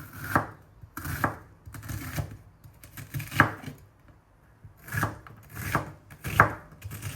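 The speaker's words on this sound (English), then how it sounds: "You're going to peel that and just roughly dice it." Knife roughly dicing a peeled onion on a board, crisp chopping strokes in uneven bursts of several quick cuts with short pauses, close and clear, no talking.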